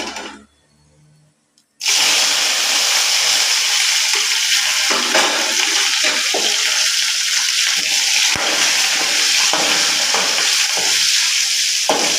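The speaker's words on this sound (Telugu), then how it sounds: "తర్వాత ధనియాలు, పచ్చిమిర్చి, కరివేపాకు, ఒక ఉల్లిగడ్డ కట్ చేసి వేసేసుకుందాం." Coriander seeds, green chillies, curry leaves and chopped onion hit hot oil in a pan and sizzle loudly and steadily after a short quiet start, with occasional stirring scrapes, no talking.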